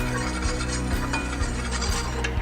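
Flour cooking in a pan for a lobster mac and cheese sauce gives a steady, close sizzle, with stirring scrapes and light clinks of utensil against the pan throughout.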